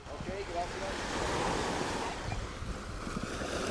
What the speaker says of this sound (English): We got great waves as we're standing here